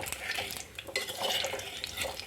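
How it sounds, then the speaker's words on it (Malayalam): Lemons sautéing in sesame oil for lemon pickle, with a soft sizzle and a spoon stirring against the pan, heard close and fairly quiet. "ഇത് നന്നായിട്ടൊന്ന് വഴറ്റെടുക്കാനായിട്ട് കുറച്ച് സമയം നമുക്ക് വേണ്ടി വരും"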